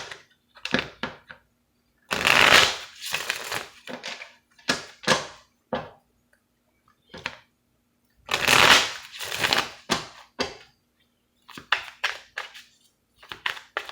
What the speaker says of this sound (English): Just give these a quick shuffle.